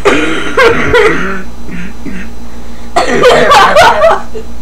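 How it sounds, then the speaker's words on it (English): A person coughs hard in two loud bursts, close by, with a short wheezy pause between them. "And I'm just gonna cough again."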